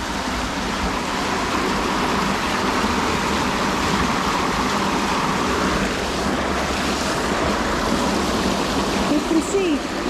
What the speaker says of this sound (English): There's a weir and it's sucking off water.